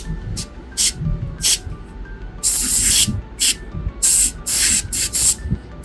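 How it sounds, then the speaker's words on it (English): Water spray from a dental handpiece rinsing acid etchant off a prepared tooth: repeated short, sharp hissing bursts of varying length, close and loud, separated by brief pauses with low background rumble. "Now I will remove this etchant,"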